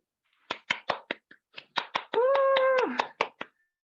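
Applause at the end of a health lecture at a home meeting: a steady run of about a dozen crisp, evenly spaced claps, close and clear, with a sustained tonal cheer-like voice briefly rising over the middle.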